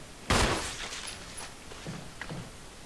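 A single loud gunshot from the Resident Evil video game, a sharp close blast that tails off. Softer thuds and clatter follow, with faint game noises behind it and no talking.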